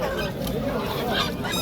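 Geese or other poultry honk amid the dense hubbub of the Yozyovon poultry market in Fergana, where turkeys, chicks and roosters are sold; loud continuous crowd noise with calls rising through it.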